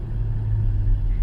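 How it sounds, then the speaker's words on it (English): A 2021 BMW M440i pulling hard in first gear gives a steady, deep engine rumble from inside the cabin, loud and continuous for about a second with no talking. "Let's do a little first gear pull."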